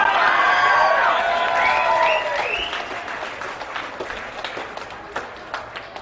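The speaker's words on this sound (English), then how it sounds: "Give him a big round of applause!" An audience at a comedy show breaks into loud applause with some cheering, the clapping fading gradually to scattered claps.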